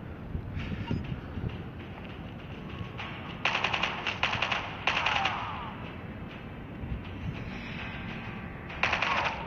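Bursts of automatic gunfire in the mobile shooter Call of Duty Mobile, several short rattling volleys spread across the stretch over a low game background rumble, with no talking.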